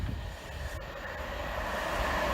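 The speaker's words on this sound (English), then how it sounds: "Here's train 1 of X." Train passing at Barnby Road level crossing, a loud continuous rumble of rolling wagons close by, swelling slightly as it goes, with no voices.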